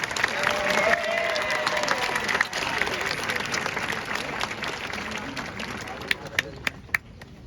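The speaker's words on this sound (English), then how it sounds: "Ladies and gentlemen, another round of applause." A crowd at a high school graduation ceremony applauds the valedictorian with sustained clapping and cheering mixed with crowd noise, fading down to a few scattered, sharp claps at the end.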